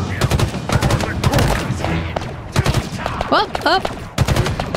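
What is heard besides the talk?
weapon firing in the video game Halo Infinite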